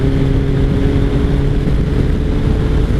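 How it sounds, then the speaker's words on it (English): A 2003 Kawasaki ZR7S with its air-cooled engine and 5-speed gearbox, heard on a cold ride as a loud steady engine drone mixed with heavy wind roar, continuous and close. "It is an air-cooled, bulletproof engine with a 5-speed"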